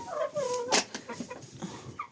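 Hens of a naked-neck breed give soft, close clucks and drawn-out murmuring calls, with one sharper squawk in the middle of the short stretch.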